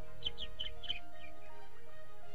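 Several quick, high chirps from birds at Paynes Prairie preserve, a wetland and upland nature reserve, come in a short cluster near the start and then fade into a quiet outdoor background with no talk.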